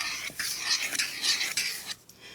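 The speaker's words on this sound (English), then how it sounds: "let me stir this up and see if it's enough" Buttermilk is stirred into Southern-style cornbread batter in a bowl, with a close, wet, sloshing swirl and soft scrapes that come in rhythmic strokes and then pause briefly.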